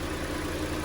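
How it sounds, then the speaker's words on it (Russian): A Kia Sportage with a G4NA engine idles while warming up in frosty weather, a steady, close mechanical hum with a faint rhythmic pulse and no talk. "Прогреваем автомобиль сейчас, потому что, скажем так, НА моторы прогреваются довольно-таки тяжко"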